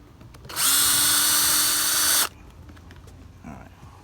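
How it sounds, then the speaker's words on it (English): A power drill whines loudly for about two seconds as it bores out metal rivets on a Honda steering wheel airbag, then stops, leaving quiet handling noise. "I'm gonna drill these rivets out."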